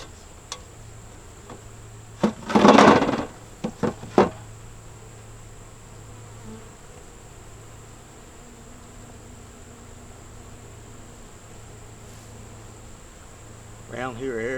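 Honeybees buzzing around a hive entrance with a newly hatched queen, a brief loud close burst of buzzing followed by quieter hum and scattered sounds.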